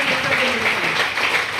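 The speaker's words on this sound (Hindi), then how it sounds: "एक जोरदार तालियां" Loud, continuous applause from an audience at a business income-plan seminar, a dense wash of clapping that holds steady throughout the short stretch with no talk over it.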